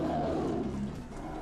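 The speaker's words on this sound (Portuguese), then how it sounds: "Foi o rugido mais horrível, mais assustador que eu já ouvi na vida" A terrifying creature's roar, something between a lion and a bear, rumbles loud and sustained through the whole moment with no voices over it.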